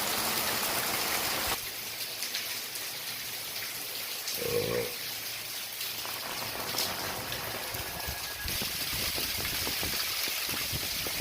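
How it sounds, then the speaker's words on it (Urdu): A torrential late-August downpour in Dadyal drums on streets and spouts from gutters, a thick steady hiss that dips briefly and then swells again, with a faint low tone passing through midway. "شدید بارش"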